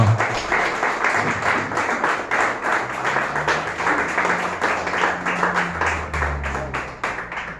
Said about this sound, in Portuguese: dá uma oferta de aplauso ao Senhor